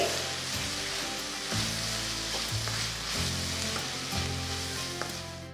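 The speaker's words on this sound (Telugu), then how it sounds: "సో వేసిన తర్వాత బాగా మిక్స్ చేసేయండి" A frying mixture sizzles steadily in a pan while salt and turmeric are stirred in, with soft scraping of the spoon, close and continuous without talk.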